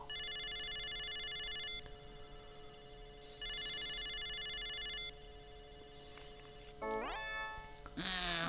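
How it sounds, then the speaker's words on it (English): A video phone rings in the Snatcher video game, giving two long electronic ringing bursts separated by a pause, then a rising synthesized dialing tone and a bright connection chime, with no talking. "let's use the video phone. Make a call."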